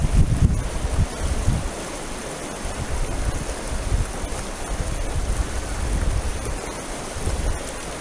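Water pumped by hand through a Chinese straw-type water filter outdoors: a steady watery rush with low, irregular pumping pulses under constant wind-like noise.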